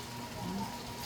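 Heavy rain pours down steadily in a brief, constant wash of noise with no clear drops standing out, close and unbroken throughout.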